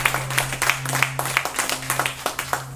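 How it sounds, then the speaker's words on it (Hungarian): Audience applause at a fitness competition, a small crowd clapping in scattered, fairly sparse claps over a steady hum from the venue's sound system. "Hát tapsoljuk meg!"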